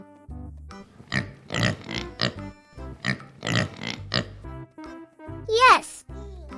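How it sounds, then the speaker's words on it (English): A pig grunts and oinks in an English classroom game about barnyard animals, a few short snorting sounds mixed among a child-like voice talking, ending with a playful rising squeal. "It's a pig."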